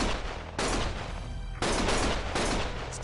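Loud gunfire from the game Lost Judgment, heavy sustained volleys broken by two short pauses that resume in fresh bursts, with no voices.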